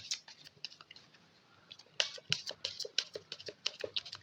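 Tarot cards are shuffled by hand in light, rapid riffling and patting clicks, sparse and soft at first, then a denser, louder run of flicks close by.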